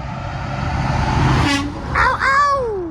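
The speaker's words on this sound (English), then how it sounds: "At least we got truck honks." A truck horn blares in two honks over loud roadside traffic rumble in upstate New York near Oneonta, the second honk longer with a falling pitch as the truck passes.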